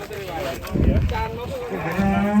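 A cow moos loudly and close by, a single drawn-out low call on a farm where the animal has gotten out of its pen, with a rising tone at the end.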